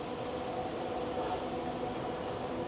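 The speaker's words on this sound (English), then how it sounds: "Monorail's coming. Can hear the chain and the motors going." Steady mechanical rumble of a passing Las Vegas monorail at night, with continuous motor hum and a grinding chain drone, evenly loud throughout and no talking.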